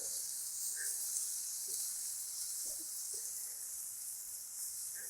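Continuous high-pitched sizzle of lamb cutlets on a hot grill grate, fairly quiet and even, with occasional faint crackles.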